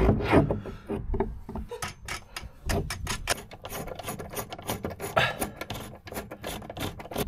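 Screws are driven in by hand while electrical modules are mounted for a solar charging setup in a camper truck, giving a rapid, close series of ratcheting clicks and gritty turning rasps.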